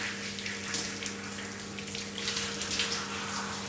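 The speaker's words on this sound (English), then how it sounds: "So now we're just going to rinse out the mud." Running water rinses clay mud out of hair, a steady close hiss of flowing water like a tap or shower stream, continuous and even with no talking.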